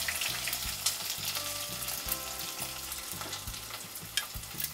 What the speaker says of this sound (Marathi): आता हे आपण चांगलं भाजून घ्यायचं। हे बघा आता कांदा ना थोडासा भाजलेला आहे।